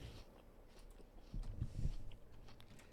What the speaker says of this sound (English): it's silent and I'm just chewing in your ear like a horse